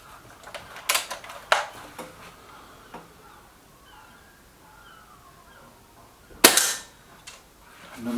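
Reximex air rifle firing pellets, a few sharp, close cracks spaced several seconds apart, with quiet room noise and faint movement between shots.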